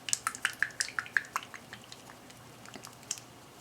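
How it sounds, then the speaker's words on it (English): A bottle of thick Gorilla Glue is shaken in a quick run of sharp clicks and knocks, about eight close together, then a few sparser taps, close and fairly quiet. "this Gorilla Glue. It's a lot thicker, and the bottle says shake well,"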